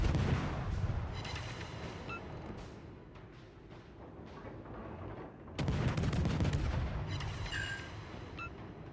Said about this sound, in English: this is the first salvo that could light a fire after his damage got